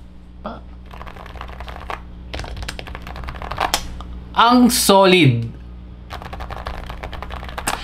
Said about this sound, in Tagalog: sound check muna tayo mabilis. Spacebar yun ha, spacebar.